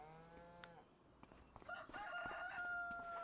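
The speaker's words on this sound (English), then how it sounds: "We do have a chicken pasture right here" Chickens in a pasture in the Farming Simulator 25 video game, with a rooster crowing and hens clucking faintly in the background, no talk over them.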